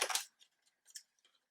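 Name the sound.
long scissors cutting paper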